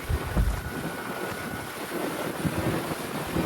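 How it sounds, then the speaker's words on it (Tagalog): Steady, heavy wind by the sea roars and buffets the microphone throughout, a continuous low rumble with gusts, no voices. "Sobrang hangin po kasi hindi tayo makakapaghagis ng lambat dito doon sa spot."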